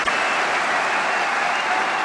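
A large arena crowd applauds after the final of the 2012 World Team Table Tennis Championships between Zhang Jike and Timo Boll. The clapping is dense, loud and sustained, a continuous wash with no pauses.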